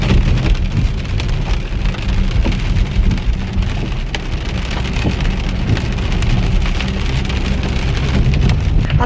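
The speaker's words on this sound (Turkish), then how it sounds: "Yağmur yağarken geldim." Heavy rain falls outdoors in a steady, loud, unbroken wash that hammers on surfaces throughout, with no voices.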